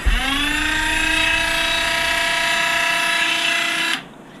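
A Dremel rotary tool with a sanding wheel whines at a high, steady pitch for about four seconds while trimming an HB Racing D817V2 RC car arm, loud and close, then cuts off abruptly.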